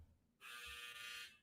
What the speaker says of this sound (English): That was my dryer, ladies and gentlemen.